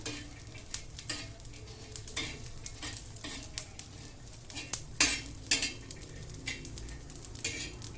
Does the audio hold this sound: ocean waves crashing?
no